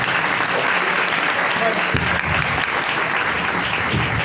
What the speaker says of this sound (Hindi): मैं चाहता हूं जोरदार तालियां हो जाएं इनके लिए।